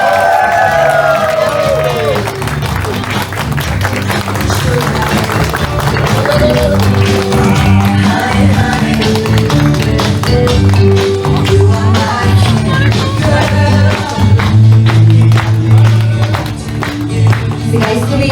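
Wedding guests clap and cheer as the bride and groom cut their cake together, a steady dense wash of applause with crowd noise, music and an announcer's voice over it.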